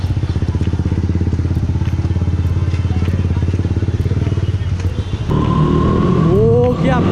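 Motorcycle fitted with a loud aftermarket silencer, ridden in Kolkata city traffic, a deep rapid exhaust burble that surges into a louder rev near the end, with a rising whine from traffic.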